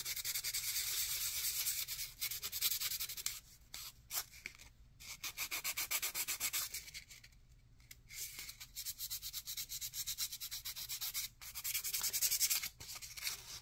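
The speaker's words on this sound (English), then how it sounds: "I always like to take the time to sand the frame as I go" Fine P800 wet/dry sandpaper rubbed back and forth over a small hammered wire frame for an ammonite pendant, a quiet, close, rhythmic scratchy hiss in repeated strokes with brief pauses between passes.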